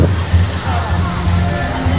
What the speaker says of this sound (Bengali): পাথরের ঝর্ণা